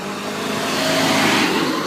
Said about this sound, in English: All the excitement of Russian traffic.